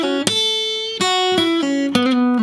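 One-finger blues guitar lick played slowly with hybrid picking, a handful of distinct plucked notes spaced apart, each ringing and sliding between pitches, close and clear with no voices.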